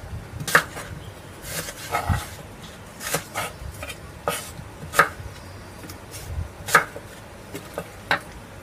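A kitchen knife cuts through an apple on a board, producing sharp separate chops spaced about a second apart, clear and close, with quiet kitchen background between strikes.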